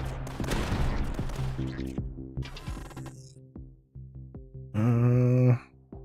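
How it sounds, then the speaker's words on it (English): Sniper gunfire in the tower-defense game Tower Dominion, a dense burst of rapid shots that trails off into mechanical clanks and ratcheting tones, ending with a loud sustained synthetic blast. "Little snipers hitting them."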